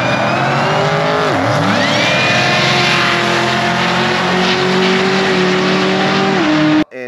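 A supercharged drag car makes a pass down the strip, its engine roaring loud and close with rising pitch through the gear changes before cutting off abruptly near the end.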